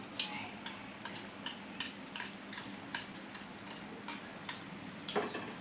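Yogurt being stirred into cooked tomatoes and onions for a tomato yogurt chutney, with a steady run of soft scraping and tapping stirring strokes against the pan at close range, no talking.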